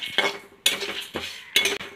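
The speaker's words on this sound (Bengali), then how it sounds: "সুন্দরভাবে নেড়ে নেড়ে ভেজে নেব।" Spices for lemon pickle stirred and fried in a pan over low heat, a utensil scraping and clinking against the pan in three or four bursts with faint crackling beneath.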